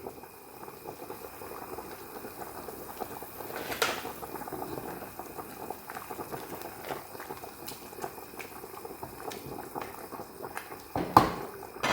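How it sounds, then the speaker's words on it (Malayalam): A whole chicken simmers in a pot with three spice powders for a kabsa made with coconut milk, giving a steady soft bubbling that runs throughout, with a few small clinks and a brief knock near the end. "ഇനി നമുക്കിതൊരു ഒരു നാൽപ്പത് നാൽപ്പത്തഞ്ച് മിനിറ്റ് നേരം ഇങ്ങനെ ബോയിൽ ചെയ്യണം"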